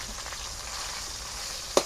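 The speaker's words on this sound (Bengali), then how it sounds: "তো বন্ধুরা মাছটা ভাজা হয়ে গেছে" Pieces of katla fish fry in hot oil for a rustic village-style curry, giving a steady, moderately faint sizzle throughout, capped by a short sharp clatter just before the end.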